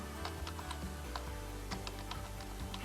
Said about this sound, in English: I'm going to type it in now